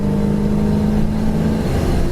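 A 1964 Chevrolet Impala SS with a four-barrel carburetor accelerating hard as the transmission kicks down, a loud, steady engine drone with a strong hum, heard without talk.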